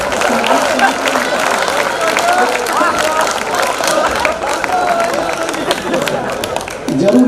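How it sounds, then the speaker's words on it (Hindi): An audience claps hands amid crowd murmur, with scattered sharp claps and a busy wash of voices running throughout. "आप एक बार ताली बजाओ"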